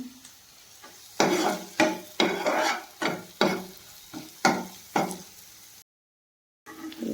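Masala for spinach and paneer stirred and fried in a pan, a series of rhythmic scraping strokes about every half second with a soft sizzle underneath, close and fairly quiet, broken by a brief silent gap.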